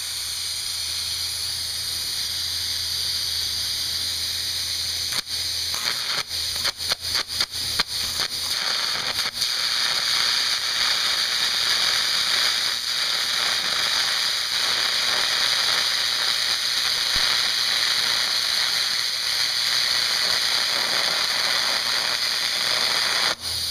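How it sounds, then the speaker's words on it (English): Carbon arc gouging on metal with a compressed air blast: a steady, very loud roaring hiss throughout, broken early on by a flurry of sharp crackles and pops as the arc strikes, with no talking. "The air and the arc itself is incredibly loud."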